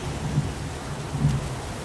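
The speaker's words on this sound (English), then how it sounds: "It's pouring rain." Pouring rain with low rumbles of thunder in the video game Heavy Rain, a dense steady hiss of rainfall with two soft low swells, and no voices.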